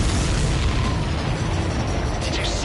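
A loud, continuous rumbling blast of a supply ship exploding in the combat flight game Ace Combat 7, dense and roaring throughout, with engine noise mixed in.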